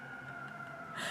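An emergency vehicle siren on a New York street holds a steady wailing tone, which brightens and swells toward the end of the short stretch, with no voices over it.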